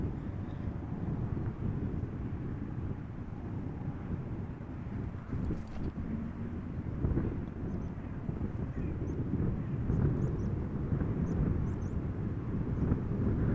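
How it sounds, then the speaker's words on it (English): A JetBlue Airbus A321neo arriving from Boston approaches Amsterdam Schiphol in a crosswind, its engines a faint, steady low rumble mixed with gusty wind buffeting the microphone throughout. "First up, JetBlue arriving from Boston, A321neo."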